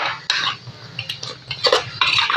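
A spoon or hand scrapes and clinks in a bowl while cucumber and dried fish pickle ingredients are mixed, making close, irregular rustling and metallic stirring sounds with no talk.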